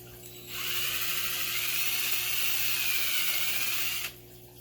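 A power drill bores holes through a plastic bottle for a DIY aquarium fluidized sand filter, a steady high whine lasting about three and a half seconds, close and loud, starting and stopping abruptly.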